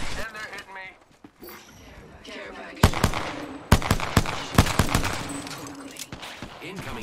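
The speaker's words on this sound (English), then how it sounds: "I am taking fire, friends." Bursts of gunfire in an arena shooter video game, several sharp loud shots and short volleys spread across the clip, mixed with speech and game voices.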